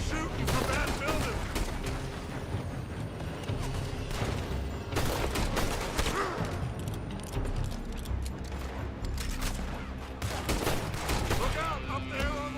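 Rapid volleys of gunfire ring out in a Red Dead Redemption 2 shootout, dense and continuous, with repeated loud shots layered over background game noise and occasional voices.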